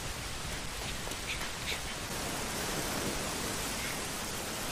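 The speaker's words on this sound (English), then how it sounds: "A very heavy sudden rain too." Heavy sudden rain in a 2013 anime film, a dense, steady hiss of downpour filling the scene evenly and loudly without pause.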